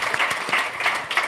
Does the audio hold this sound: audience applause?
yes